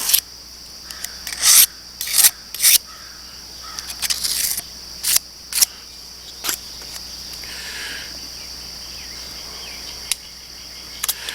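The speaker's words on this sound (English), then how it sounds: "now I'm going to take and scrape that back" A metal garden hoe blade is scraped clean in a series of short, sharp rasping strokes, close and distinct, separated by quiet gaps over a faint outdoor background of insects.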